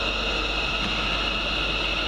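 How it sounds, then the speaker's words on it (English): A TransPennine Express train at Carlisle station gives off a steady, continuous rail rumble with a sustained high hum, constant and fairly loud throughout. "Next train out, the 1613 first Transpennine Express service from Glasgow Central through to Manchester Airport"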